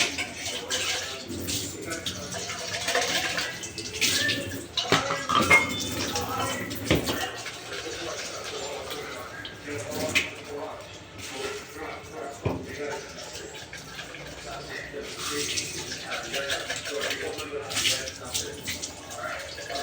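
Things being washed under running tap water while preparing for back to school, an irregular splashing and trickling flow with clattering handling, heard under frequent talking.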